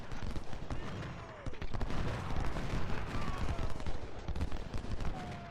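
Dense, continuous volleys of musket fire mixed with heavier artillery booms at First Bull Run in Ultimate General: Civil War, a steady roaring crackle of gunshots filling the whole stretch without a break.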